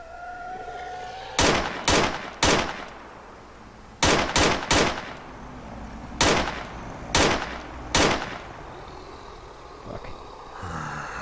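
Several separate bursts of automatic gunfire in Arma 3 with the Ravage mod, loud, sharp volleys spaced a second or two apart over a low ambient hum, then fading to faint background.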